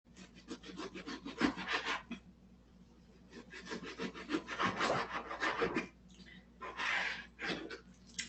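A kitchen knife slicing through food on a board, a run of close, raspy strokes in irregular bursts with brief pauses between them, fairly quiet and alone.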